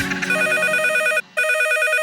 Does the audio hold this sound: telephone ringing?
yes